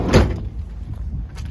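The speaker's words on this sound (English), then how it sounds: "And then we're going to be able to shut the door here." The side door of a 2019 Dodge Grand Caravan SE with a power side-entry mobility conversion shuts with one close, solid thud, followed by quiet vehicle ambience.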